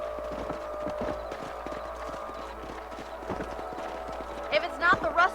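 Horses' hooves clip-clopping at a steady, fairly close rhythm in the video game Red Dead Redemption, with a few sharper snorts or whinny-like bursts near the end and people talking over the hoofbeats.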